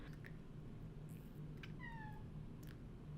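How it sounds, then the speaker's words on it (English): A single faint cat meow sounds somewhat distant over a quiet background hum, with a few soft clicks around it. "if you can hear my cat, he's being a noisy little butt right now"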